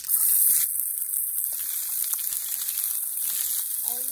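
Spices tempering in hot oil for Bombay rava upma, a steady loud sizzle and crackle with a brief stir or scrape near the end, no voices.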